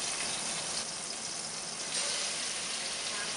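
Fresh Cantabrian baby squid frying in olive oil, a steady close hiss and crackle of hot oil that holds even throughout, with no voices.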